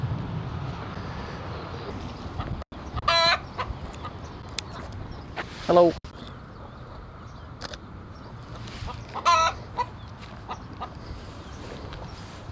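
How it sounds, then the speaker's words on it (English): A rooster in a rural spot clucks and gives short crowing calls several times at moderate distance, over ambient outdoor noise with camera shutter clicks and a brief spoken greeting. "There's a rooster asking for attention there."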